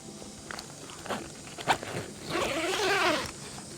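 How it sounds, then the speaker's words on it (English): A zipper being undone on the canvas of an MDC Robson XTT pop-up camper during pack-down, a scratchy rasping run that swells to a louder sustained pull near the end, with a few soft knocks before it. "just going to undo this zipper here"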